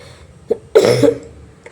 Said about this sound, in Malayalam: വാ തുറന്നു പോയാൽ ഇതുപോലെ ചുമച്ച് ചുമച്ച് ചുമച്ചിരിക്കും